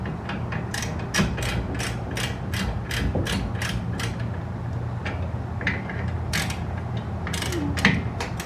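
A torque wrench tightens brake caliper bolts during a Wilwood big brake install on a bagged Mazda Miata, giving a fast run of sharp, evenly spaced ratcheting clicks over a steady hum of background noise.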